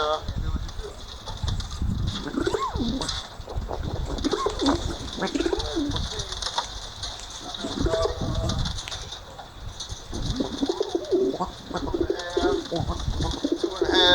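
Pet pigeons at their feed coo repeatedly in low, throaty rolls, close by and ongoing, while a person talks over them.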